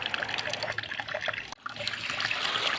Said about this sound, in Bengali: খুব ভালো করে বেশি করে জল দিয়ে বারবার ধুয়ে পরিষ্কার করে নিতে হবে